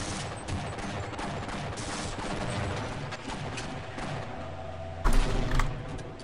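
Half-Life: Blue Shift gameplay with rapid SMG fire and a grenade boost, a sustained rattling burst of gunshots followed by a sharp, louder blast near the end.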